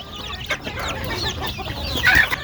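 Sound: chickens and chicks clucking in a poultry shed

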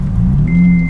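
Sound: Acura TL Type S exhaust revving

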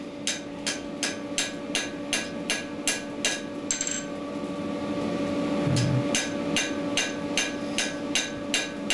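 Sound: small precise hammer blows on hot iron, knife forging

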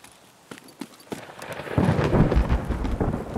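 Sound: rainy weather in Escape from Tarkov video game

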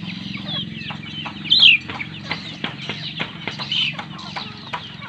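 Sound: junglefowl decoy rooster clucking

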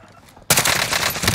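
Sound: gunfire in a video game

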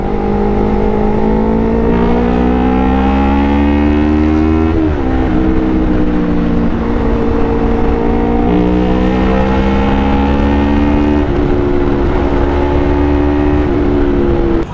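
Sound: Yamaha R3 motorcycle with Akrapovic exhaust revving

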